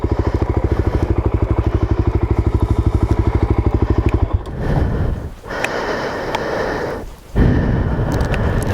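A Suzuki DRZ400S dual sport motorcycle climbs steep single-track switchbacks, its single-cylinder engine thumping in a rapid, even beat up close. The engine then falters into irregular popping and sputtering, with rough bursts and dips in loudness.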